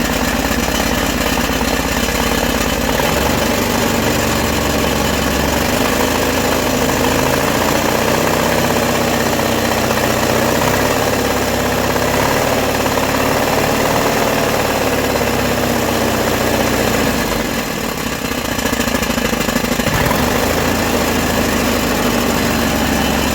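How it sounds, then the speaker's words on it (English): A 1975 John Deere 400 garden tractor's engine idles steadily throughout, a loud, close, continuous mechanical drone with a slight knocking pulse and no talking. "now we'll start the tractor"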